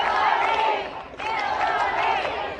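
A large crowd at a political campaign rally for a woman presidential candidate, roaring and cheering loudly, with a brief dip before the cheering swells again.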